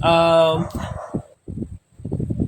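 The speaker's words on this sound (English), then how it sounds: "There's a dog barking in the background." A dog barks in the background indoors, a short harmonic yelp near the start followed by intermittent sounds, while a person speaks close by.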